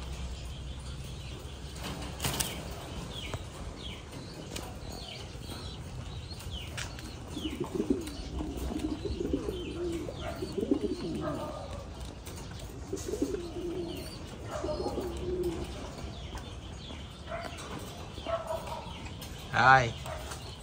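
Giant American pigeons kept in Thai-style cages coo in low, throaty bursts through the middle stretch, with occasional wing flaps and a sharp rustle near the end, all over steady farm background noise.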